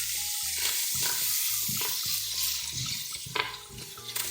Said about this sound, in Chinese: 加入芋头块，继续翻炒